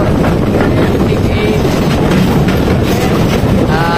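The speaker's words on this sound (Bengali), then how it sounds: "ট্রেন এখন প্রবেশ করছে।" A train rolls along the rails near Aftarpur station, Lalpur, Natore, on the Rajshahi to Santahar route, with a steady, loud rumble and faint wheel clatter, continuous throughout with no pauses.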